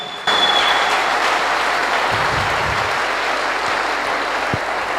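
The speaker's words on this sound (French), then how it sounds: "Est-ce qu'on peut acclamer pour la parole de Dieu ce soir?" A congregation at a church seminar breaks into sustained applause, which starts abruptly and carries on loudly and evenly throughout, with a few faint thumps underneath.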